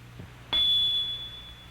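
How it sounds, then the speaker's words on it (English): A single sharp bell strike cues a home coding unit exercise in an old educational film, ringing close and loud with a long, sustained high tone that fades slowly. "when you hear the bell, respond to the following symbols"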